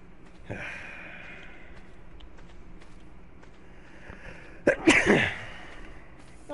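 A single sharp human sneeze near the midpoint, loud and close, preceded by a brief inhale and surrounded by quiet room ambience during a gaming session.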